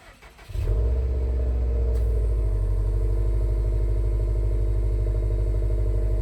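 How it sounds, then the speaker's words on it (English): A Subaru STI with its factory exhaust cranks and fires up, a brief starter whir giving way to a loud, steady, burbling idle rumble close by that holds evenly to the end. "So guys, this is what the factory exhaust sounds like on the STI."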